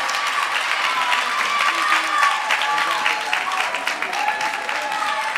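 Steady, dense applause from a large audience at a national dance competition awards ceremony, with scattered cheers riding over continuous clapping throughout.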